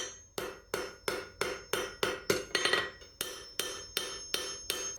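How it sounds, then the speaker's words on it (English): Hammer forging a bottle opener from metal on an anvil, about a dozen sharp ringing blows in a steady rhythm with a brief flurry of quicker strikes midway, close and clear with no talk. "It's gonna move mostly where you hit with the hammer and also where the anvil works."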